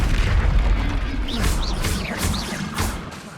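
An Incendio fire spell bursts in the Hogwarts Legacy game with a low booming rumble and crackling whooshes amid other spell effects, loud and close.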